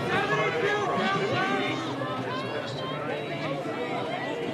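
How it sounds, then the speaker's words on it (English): Crowd noise at a high school track relay meet during an 800-metre race, a steady dense roar of cheering and chatter that holds loud throughout, with no clear words standing out. "You can hear the crowd."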